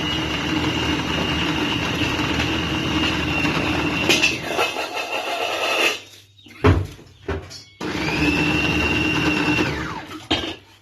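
An electric food chopper mincing vegetables for kofta whirs loudly and steadily, stops briefly amid a few knocks and clatters, then runs again before winding down.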